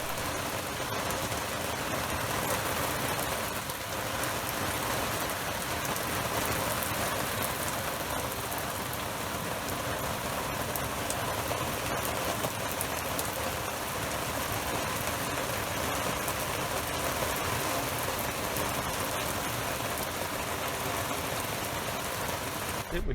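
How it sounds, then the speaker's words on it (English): Steady rain falls throughout on a canal boat moored at a basin water point, a dense, even hiss of drops on the surface and roof, close and continuous with no talking. "Just wait for the rain to pass."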